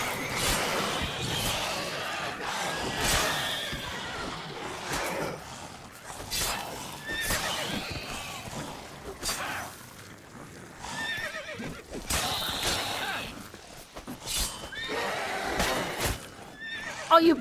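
Several loud whinnies from a horse in The Witcher 3 rise over clattering battle effects and hoof clip-clops, recurring every few seconds at close range.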